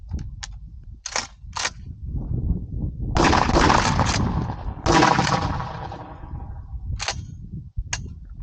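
A rare Remington 1740 prototype double-barrel pump shotgun fires outdoors: a few sharp reports and mechanical clacks, then two long booming blasts with rolling echo, followed by more crisp shots and action clicks.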